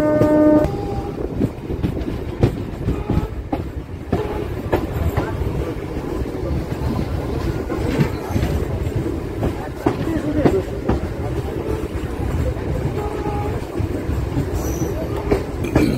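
A local train from Lakshmikantapur to Namkhana rumbles along at speed, with rhythmic clacking of wheels over rail joints and a steady roar of the carriage around the listener.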